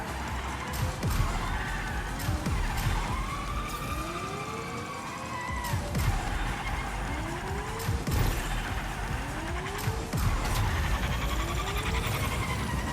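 DT5 Imperator car in the Fortnite video game driving, with engine tones sweeping up and down through gear changes and repeated sharp skid and impact bursts, loud and steady throughout.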